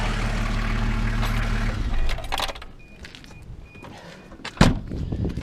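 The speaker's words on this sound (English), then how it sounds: "I'll shut the motor off so we can look at that a little better" A diesel Toyota Land Cruiser HJ60 idles with a steady low rumble, then shuts off about two seconds in, leaving near silence broken by a few faint clicks and one sharp clunk.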